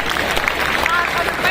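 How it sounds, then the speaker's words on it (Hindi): A crowd at a live Sanatan devotional gathering claps loudly in a burst of applause, with voices mixed into the clapping throughout the short stretch. "बार जोरदार ताली उनके लिए बजाइए"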